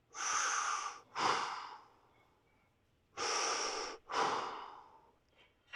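A person takes deep breaths, in through the mouth, while holding a lower-body fascia stretch for the hips. Two pairs of long, close, airy breaths are separated by a short pause.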